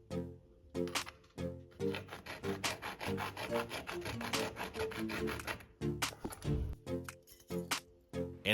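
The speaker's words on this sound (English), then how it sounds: "Now we're going to cut the flashlight holder to fit the PVC pipe." A flashlight holder being cut down to fit a PVC pipe, a close rhythmic rasping of repeated back-and-forth strokes that runs steadily with short breaks, with no voices.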